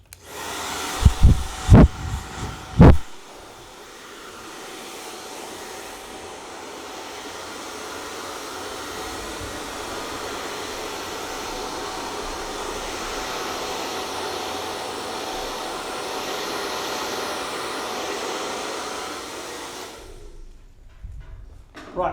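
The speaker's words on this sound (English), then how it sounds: "let's just run a dry through that quickly on cold air" Hair dryer on cold air drying a pixie haircut, a steady close whooshing drone running about eighteen seconds after a few sharp knocks, then cutting off.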